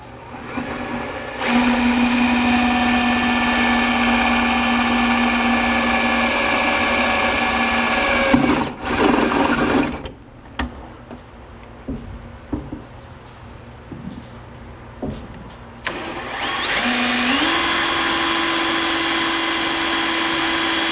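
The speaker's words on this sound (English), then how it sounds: "I'm going to be using this narrow step bit to drill just the first 1, maybe 2 steps, so I can get a nice pilot hole here" Power drill spinning a narrow step bit to bore pilot holes in a painted truck bed bracket, a loud steady whine that runs for several seconds, stops, then starts again rising in pitch.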